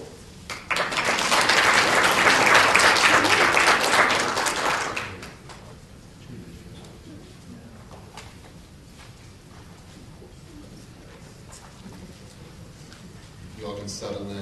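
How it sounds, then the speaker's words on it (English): Loud, dense conference audience clapping starts within the first second and lasts about four seconds, then drops away to a quiet room hum. "Limber up, we're going to have a lot of applause."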